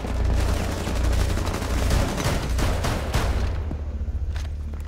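Gunfire from the Rainbow Six Siege video game during a House team deathmatch on Secure Area: dense, continuous bursts of automatic fire and overlapping shots, loud and sustained, tapering into a few scattered shots at the end.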